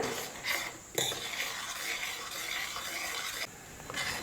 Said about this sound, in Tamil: நான் இப்போ வெல்லத்தை கரைச்சிக்கிறேன்